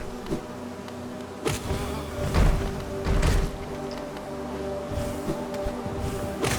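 In the Hollow Knight game, a hive of bees hums with a continuous, close buzzing drone, punctuated by a few soft thumps and whacks.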